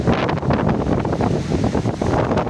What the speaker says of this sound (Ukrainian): Зацініть вітер!